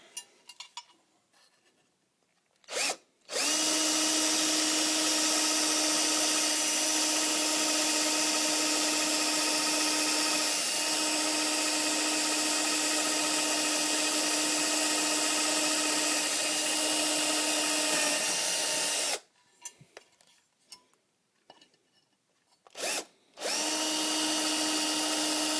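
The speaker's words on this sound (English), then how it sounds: "Take my pilot bit, load it into my battery operated drill." A battery-operated drill with a pilot bit whirs loudly and steadily through two long bursts near the microphone, the first about sixteen seconds, with quiet gaps and brief clicks between them, while drilling a Dwyer DM368 mast for a hinged gate.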